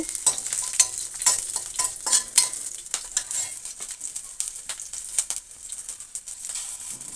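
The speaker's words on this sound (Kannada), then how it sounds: "ಮಿಂಚಿಕಾಯಿ ಹುರ್ಕೊತಾ ಇದ್ದೀನಿ ಇವಾಗ ಸ್ವಲ್ಪ ಹುರಿಲಿ ಇದು" Green chillies fry in a pan with a bright, close sizzle while a utensil stirs and scrapes in irregular bursts of clinks and taps, easing to a softer sizzle toward the end.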